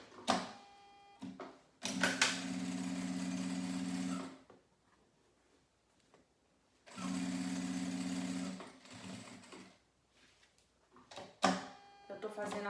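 Sewing machine running a side seam on fabric for a simple zippered pouch at a 3.5 stitch length, with two long steady stitching bursts of about two seconds each and short clicks and handling between them.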